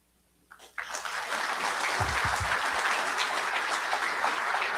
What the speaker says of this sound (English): Big round of applause for Alan Webster